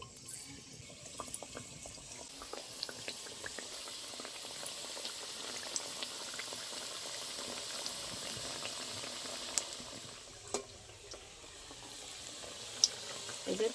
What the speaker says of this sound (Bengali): এরকম অল্প অল্প গরম তেলে ভেজে নিতে হবে